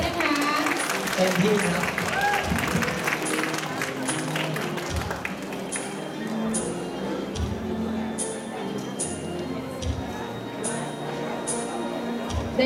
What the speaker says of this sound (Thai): ปรบมือดังๆให้นะ